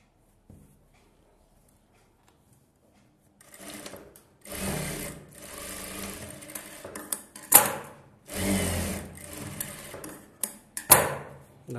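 A sewing machine stitches a blouse in close, loud runs of quick mechanical whirring, starting after a few quiet seconds and pausing between bursts.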